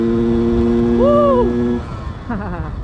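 A Yamaha F1ZR motorcycle engine drones steadily, then its pitch dips and swoops as the rider shifts gear before it picks up again, close and loud.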